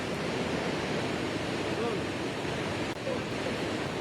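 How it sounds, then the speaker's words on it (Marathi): Rain-swollen waterfalls pour down the mountains behind a temple at Trimbakeshwar near Nashik, a broad, steady roaring rush of water that stays even and fills the whole scene. "मंदिराच्या मागे असलेल्या पर्वतांवरील धबधबे खळखळून वाहत आहेत"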